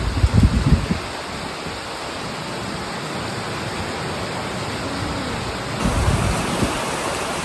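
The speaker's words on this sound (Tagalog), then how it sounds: "Lakas ng ulan" Heavy rain pours steadily in a dense, continuous hiss, with a few louder splashy bursts near the start and toward the end.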